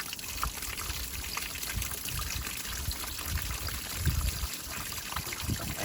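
Water drains and trickles out of the engine of an old MK1 Ford Transit van, a steady faint pouring splash running continuously.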